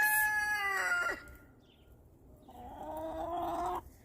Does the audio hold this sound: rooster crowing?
yes